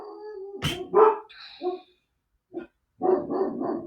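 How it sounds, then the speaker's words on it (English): Dogs barking indoors nearby: a few sharp barks and yips in quick succession, a pause, then a longer burst of loud barking, with no talking over it. "Ignore my dogs."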